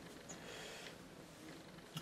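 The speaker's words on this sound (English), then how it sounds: "But he's a lovely little cat." A small, friendly pet cat purrs close by, a soft, steady, continuous rumble with a slight stir near the end, and no talk.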